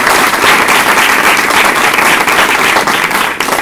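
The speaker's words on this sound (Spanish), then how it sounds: "un gran aplauso." Loud, sustained clapping from an audience at a talk in Peru, a thick continuous wash of many hands that stays strong throughout and eases slightly at the very end.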